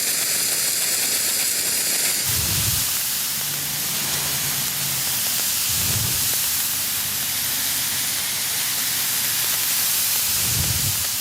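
Air forced through car wash sprinkler rotor nozzles during winterizing, a steady loud broadband hiss filling the whole span with a few low thumps recurring every few seconds.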